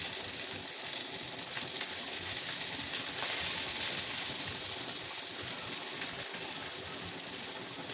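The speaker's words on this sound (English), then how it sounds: "Oil, and then we're gonna put our sausages in here." Smoked sausages fry in hot oil in a pan, giving a steady, dense, loud sizzle that runs unbroken throughout with no talking.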